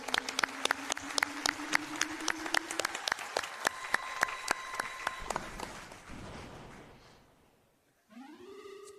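Audience applauding at a Games Done Quick speedrun event after a run of The Legend of Zelda: A Link to the Past, a burst of claps that fades out, with a brief electronic game tone at the end.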